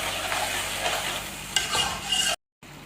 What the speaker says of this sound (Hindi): अब मैं इसके साथ थोड़ी सी भुनाई करूँगी।